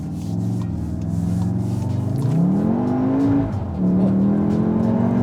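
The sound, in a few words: 2022 Volkswagen Tiguan R accelerating in R mode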